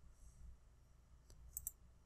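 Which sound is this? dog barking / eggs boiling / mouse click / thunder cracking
mouse click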